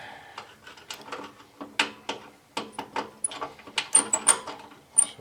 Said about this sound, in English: So I'm securing the carburetor with one hand, loosening the screw with the other.